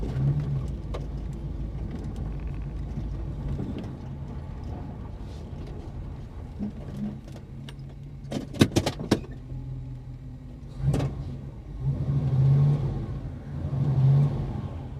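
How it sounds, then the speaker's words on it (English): A Holden HK car engine with a fault idles with a low, uneven hum, broken by a few sharp clicks and knocks, then brief rises in engine tone. "I don't know what's going on with my car, but something does not sound right."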